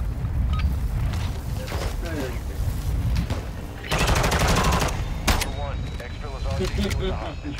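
Gunfire in Call of Duty MW2 DMZ rattles in loud repeated bursts and rapid automatic volleys, with a dense stretch of firing mid-clip, all under ongoing speech.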